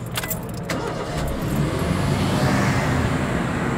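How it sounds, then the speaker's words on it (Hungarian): A car with a new battery starts up, with a brief crank and catch that settles into a steady, loud engine idle. "Beindítjuk a kocsit."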